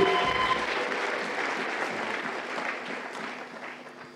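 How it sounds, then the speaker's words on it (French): A church congregation applauds during a pastor's sermon, with dense, sustained clapping from a large crowd that fills the room and slowly tapers off. "J'aimerais qu'on l'acclame encore très fort."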